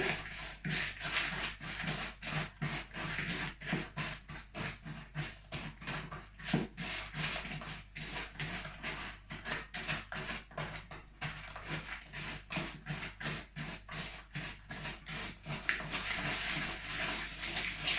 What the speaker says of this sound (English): So we'll give a good stir.